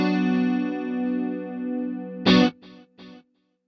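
Electric guitar runs through a Boss GT-100 set to a mono detune pitch shifter for a wet dry wet rig: one sustained chord fades slowly, then three short sharp chord stabs follow, close and clean.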